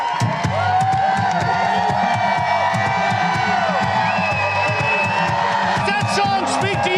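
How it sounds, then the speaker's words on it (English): A large crowd at a concert roars and chants continuously, loud and close, with overlapping shouts and cheers filling the whole stretch. "You can hear the crowd yelling, USA!"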